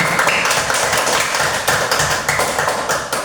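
Classroom of children clapping hands together, a dense steady patter of many overlapping claps lasting the whole stretch, close and fairly loud.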